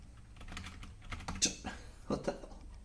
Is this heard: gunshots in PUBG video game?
no